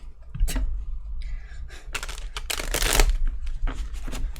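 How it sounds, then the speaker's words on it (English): Tarot cards being shuffled close up: crisp riffling bursts and soft slaps in quick irregular runs, with no talking. "I've been pausing while I'm shuffling because I know it sounds weird"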